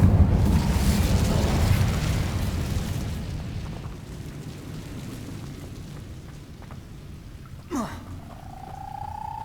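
In the Hogwarts Legacy video game, the Incendio fire spell goes off as a roaring burst of flame that fades over several seconds, followed by a short whooshing sweep and a rising tone.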